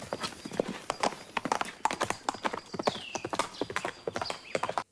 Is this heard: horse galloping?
yes